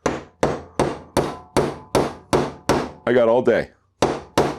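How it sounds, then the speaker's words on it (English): Hammer driving a nail into wood with about a dozen sharp, evenly paced strikes, loud and close; someone speaks briefly midway between blows. "I'm holding the hammer further up."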